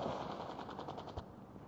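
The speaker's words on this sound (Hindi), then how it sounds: "जो भी हम लोग अनलिमिटेड बुलेट फायरिंग कर रहे हैं" Rapid, unbroken machine-gun fire from an aircraft in the mobile game Sky Fighters rattles on loudly for the whole moment, a dense stream of shots without pauses.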